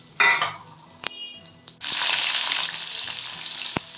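Pepper, cumin and cashews hit hot oil and ghee in a kadai: a few metallic clinks, then a sudden bright sizzle that holds steady and loud, with an occasional sharp tap.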